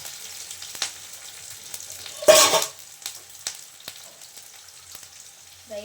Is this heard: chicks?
no